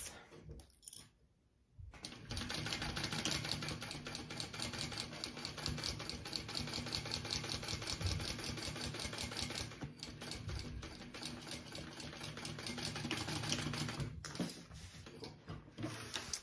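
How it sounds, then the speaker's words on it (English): A home sewing machine stitches a seam on a bag, joining fabric pieces right sides together. After a short pause it runs at a steady, even pace for about fourteen seconds, close and continuous, with a brief break near the end. "I'm gonna sew that at my seam allowance"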